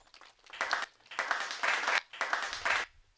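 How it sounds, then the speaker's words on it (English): An audience at a Murang'a University of Technology graduation ceremony applauds in three bursts of dense, fairly distant clapping with short gaps between them. "Please clap for them."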